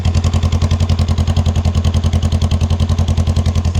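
A Honda Rebel 500 fitted with a Shorty GP exhaust idles up close, a loud, even, rapid exhaust pulse thumping steadily throughout with no voices.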